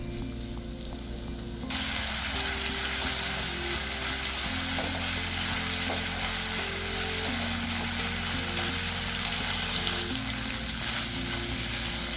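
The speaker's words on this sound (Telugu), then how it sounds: "వాటర్ ఇంగే వరకు ఫ్రై చేయాలి" Prawns frying in oil in a pan, cooking down until their released water evaporates: a steady, dense sizzle that stays loud and even throughout, starting after a brief quieter moment, with no talking.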